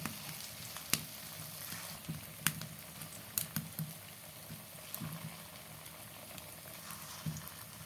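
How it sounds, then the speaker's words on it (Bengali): Pieces of rice flour and potato snack sizzling and crackling in hot oil, with scattered sharp pops and spatters over a steady frying hiss, close by. "তেল গরম হয়ে গিয়েছে, তেলের মধ্যে দিয়ে দিচ্ছি তৈরি করে রাখা পিস"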